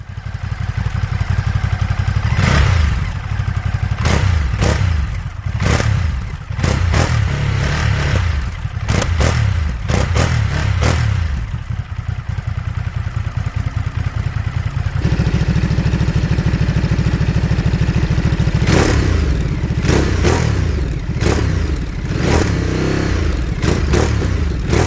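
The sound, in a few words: motorcycle revving with the old stock exhaust system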